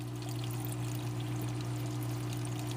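Water steadily pours and trickles out of a saltwater aquarium protein skimmer outlet past a hanging bag of carbon, a continuous close stream over a low pump hum.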